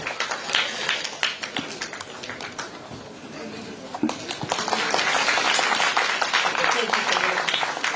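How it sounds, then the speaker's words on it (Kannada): Audience applause at a public welcome event honouring a Booker Prize–winning writer, a broad rattle of many clapping hands that swells louder in the second half, with crowd noise and talk mixed in. "ಮತ್ತೊಮ್ಮೆ ನಿಮ್ಮೆಲ್ಲರ ಜೋರು ಚಪ್ಪಾಳೆ ಮೂಲಕ"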